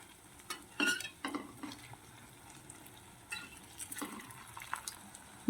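Beetroot fritters fry slowly over low heat in a pan, with soft bursts of sizzling and occasional spatula scrapes and clinks as they are turned, fairly quiet and close, with no voices.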